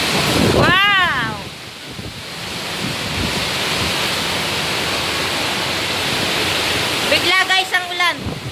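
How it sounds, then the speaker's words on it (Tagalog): Heavy rain pours down suddenly during a big storm, a loud steady roar of broadband hiss throughout, with excited voices and exclamations rising over it near the start and end. "Bigla guys ang ulan."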